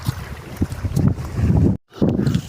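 Water gushing hard from borewell pipes into a tank on a farm, a steady, loud rushing roar close by, broken by one brief gap.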